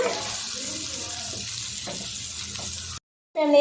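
Onions and tomatoes sautéing in a pan for chutney, a soft continuous sizzle with faint stirring, then a brief silence followed by a short burst of another sound.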